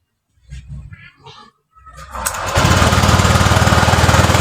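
A Honda Vario 125 scooter engine cranks and catches, then settles into a steady, buzzing idle up close after a brief sputter.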